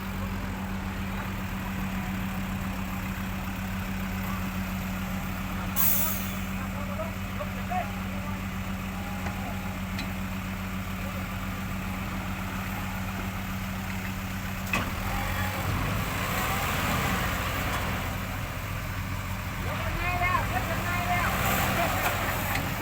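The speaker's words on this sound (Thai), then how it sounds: "เข้ามารอบนี้เจอสองช็อตหกล้อ ติดโรมแล้วก็รถไถติดโรมครับอยู่ด้านนู้น" A six-wheel dump truck engine idles and rumbles steadily throughout, with a low drone and occasional clanks, as voices talk over it outdoors where the truck and a tractor are stuck.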